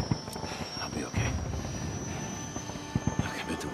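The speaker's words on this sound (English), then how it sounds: "We gotta get on that chopper." Helicopter rotor drone from the video game Days Gone, a steady broadband whir running throughout with low thumping pulses, close and fairly loud, under ambient game noise.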